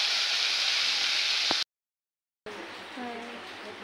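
Vegetables fry in a pan with a steady broadband sizzle for over a second, then silence after a cut, followed by quieter kitchen noise with faint voices.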